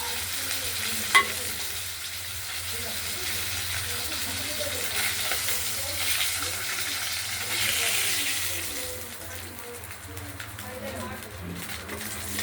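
Rohu fish head sizzles in hot oil in a pan, a steady close crackle with stirring noises, while a person talks over it at times.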